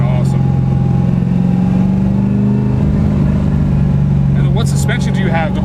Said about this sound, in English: There's just something about the rawness of this motor that's just so sexy about it.